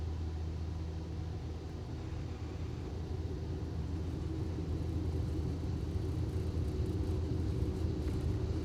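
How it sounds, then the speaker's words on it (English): A Cessna Skyhawk takes off with flaps up from runway 5, its engine producing a steady, loud, droning rumble that holds constant throughout with no talk. "I'd always fly a Skyhawk clean for the most part, so I'll take off with flaps up at the moment"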